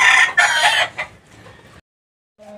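The tail of a loud, nearby rooster crow, then softer clucking that fades into silence before a brief low tone.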